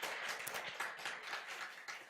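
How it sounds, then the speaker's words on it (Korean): Congregation in a church gives thankful applause, a quiet, dense wash of many hands clapping that continues without a break. "우리 다시 한번 우리 하나님께 감사의 박수"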